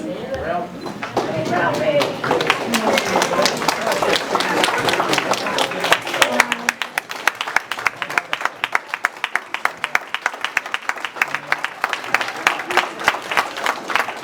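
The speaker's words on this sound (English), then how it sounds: "so that we could acknowledge you in a round of applause" An audience at a community presentation breaks into applause, starting amid talk and a few scattered claps before settling into steady, crisp clapping from many hands that continues to the end.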